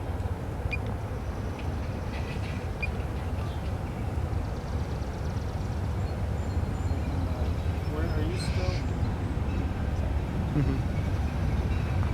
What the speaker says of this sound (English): The 3 ALCOs are having no problem with their 35-car train as they rock down the old jointed rail